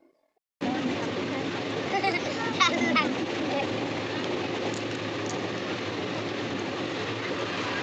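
A passenger train moves along, a continuous close rumble and rattle of the carriage with a few faint clicks, beginning abruptly after a brief silence and running steadily under a low murmur of voices.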